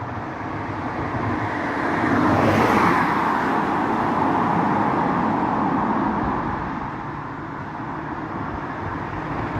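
Road traffic rumbles by; a car swells louder as it passes close, then fades, leaving a steady hum of distant traffic.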